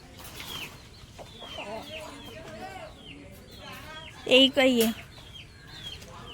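Chickens and young chicks being let out at a home poultry yard cluck and peep in scattered bursts, with a louder cluster of calls near the end, while a person talks over them.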